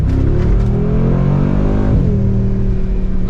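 A Mercedes-AMG G63 G-Wagon accelerating on the road with its exhaust valves closed, a loud, continuous engine drone rising in pitch and then settling after a gear change, heard from inside the cabin.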